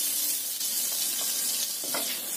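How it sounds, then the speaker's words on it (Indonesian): Sliced onion and shallots sauté in margarine in a pan for soup, giving a steady, close hiss of sizzling with faint stirring scrapes and no talk. "Kita gunakan margarin untuk menumis bawang bombay dan bawang merahnya tadi."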